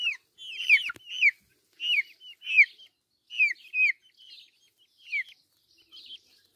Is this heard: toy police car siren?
no